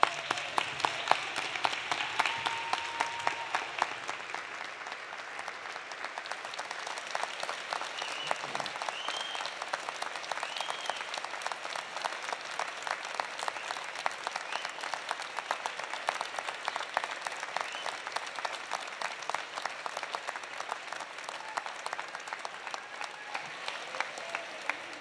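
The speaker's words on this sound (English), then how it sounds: "stand up and give them a huge round of applause" Sustained applause from a large convocation audience in a university hall, steady dense clapping that holds at an even level for the whole stretch, with faint crowd murmur underneath.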